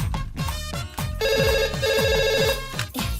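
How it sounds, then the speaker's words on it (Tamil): A mobile phone ringtone rings loud and close, a repeating electronic tune of bright tones that pauses briefly and then carries on through the whole stretch, with no voices over it. "இப்ப போன் எடுக்கலனா ரிங் அடிச்சிட்டே இருக்கும்."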